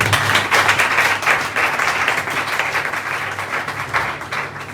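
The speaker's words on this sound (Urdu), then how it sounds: "آئیں بھائی عرفان کے لیے تالیاں ہو جاتی ہیں." A church congregation claps together in steady, dense applause that stays loud and close from start to finish.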